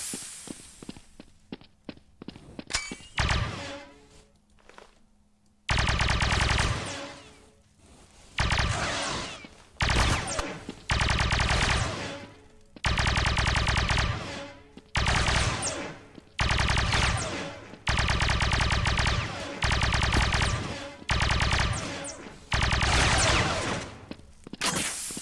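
Bursts of video game gunfire crack out in repeated loud volleys of several seconds each, separated by short pauses, with rapid shots stacking into dense automatic fire.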